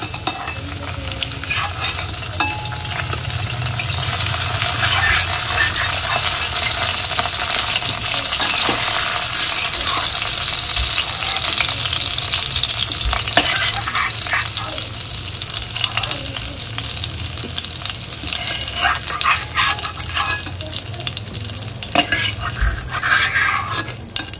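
Potato pieces frying and sizzling in hot oil, with occasional stirring scrapes and light drips, a steady continuous crackle close by with no talking.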